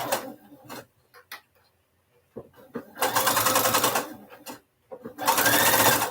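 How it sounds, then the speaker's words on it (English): Sewing machine stitching the inner lining base of a custom hat, heard as two loud, sustained runs of rapid mechanical chatter split by pauses with short knocks and handling noises in between. "I'm putting the inner lining base on."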